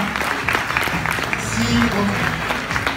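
An audience claps warmly for the volunteers at a festival, a brisk patter of applause mixed with a few murmuring voices, lasting the whole moment.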